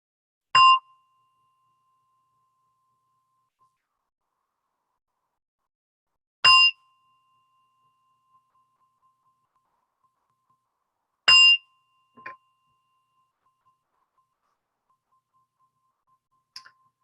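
A meditation gong rings out three times at slow, even intervals to close a session, each stroke a bright, ringing tone that decays into quiet, with a faint tap near the end.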